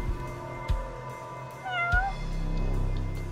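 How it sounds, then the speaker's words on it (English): A cat meows in the video game Judgment, a short rising-falling call heard once up close over low background game ambience, with no voices over it. "I hear a cat. What's going on? Where's the cat?"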